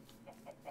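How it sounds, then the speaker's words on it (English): Chicken clucking in modded Minecraft 1.18, three short soft clucks spaced evenly and faint, heard alone. "hello there, chicken."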